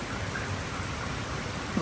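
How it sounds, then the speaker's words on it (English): Rain falls steadily outdoors near a boat with a Yamaha 15 HP outboard, giving a constant dense hiss with no breaks or voices. "the rain is here"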